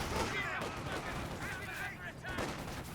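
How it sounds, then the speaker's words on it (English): Sexton self-propelled artillery opening a barrage in Company of Heroes 2, a continuous rumble of booming shells and gunfire in the battlefield mix, with a voice talking over it. "there we go, Sexton starting the barrage"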